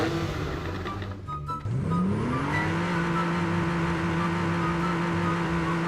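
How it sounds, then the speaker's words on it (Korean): A Porsche sports car engine in PUBG: Battlegrounds revs up, its tone climbing smoothly and then holding at a steady, loud hum. "어 엔진 소리."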